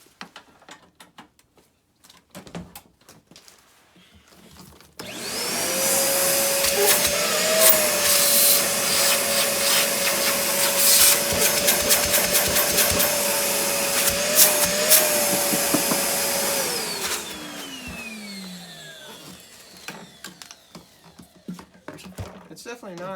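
A Vacmaster Beast 5 gallon shop vacuum switches on with a thump, roars loudly and steadily for about twelve seconds with a high motor whine, then winds down, with someone talking before and after.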